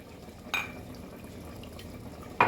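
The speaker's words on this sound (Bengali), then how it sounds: "সেই বাটিটা মেপে আমি সবজিগুলোর মধ্যে জল দিয়ে দিচ্ছি" Water poured from a bowl into a pot of vegetables: a quiet, steady trickle and splash, with a brief louder splash near the start and another at the very end.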